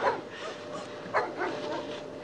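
Dogs bark and yip in a couple of sharp bursts, one near the start and another midway, heard at moderate distance over a steady background hum at night in a Moroccan neighborhood.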